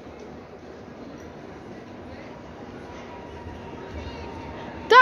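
A PKP Intercity ED161 Dart electric train approaches Toruń Główny as a faint, slowly swelling rumble, then a sudden bright squeal at the very end.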